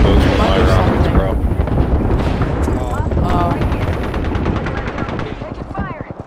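Rockets exploding in the Apex Legends video game, with dense gunfire and blasts layered in a continuous loud barrage and rapid automatic bursts toward the end, while players talk over the chaos.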